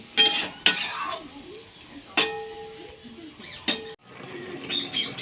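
A cauliflower and paneer curry is stirred in a pan after water goes in: a handful of sharp spatula clanks against the metal between softer sloshing stirs, fairly quiet.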